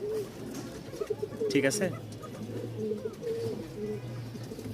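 Rajshahi Giribaz pigeons, a white pair, give thin, soft cooing calls repeated through the scene at close range, with a voice speaking briefly over them.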